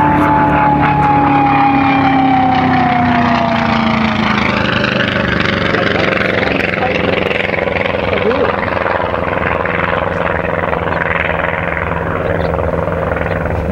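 Mike Arnold's AR-6 race plane at the Reno air races, its engine with straight exhausts roaring loud and steady throughout, a dense continuous drone with a slowly falling tone.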